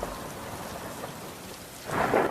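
Steady rain pours in a cartoon story, and a roll of thunder swells near the end, all without voices.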